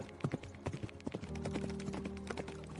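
Horse hooves clop in a quick, uneven rhythm while a sustained musical drone comes in partway through, the footfalls sounding fairly close and mixed at moderate volume under the score.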